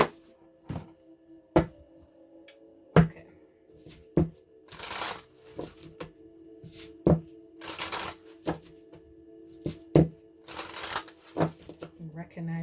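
Crystal reading cards being shuffled, with a series of crisp riffling bursts and sharp taps repeating every second or so, close and clear over a steady low hum.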